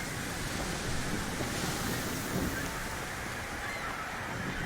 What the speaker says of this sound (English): Holy birds.